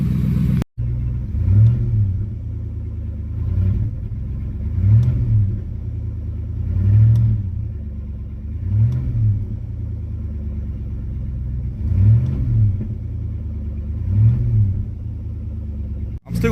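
Car with reduced engine power fault being tested, the engine rumbling at idle and revved repeatedly in about seven short throttle blips, close up.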